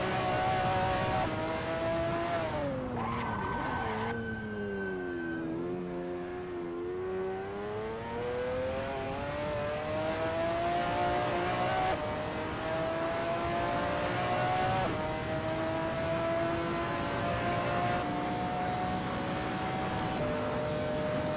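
A McLaren F1 GTR race car on its out lap at Daytona holds a loud, continuous engine drone. The pitch falls as the car slows into a corner, then climbs steadily through repeated gear changes.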